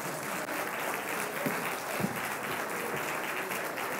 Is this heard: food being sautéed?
no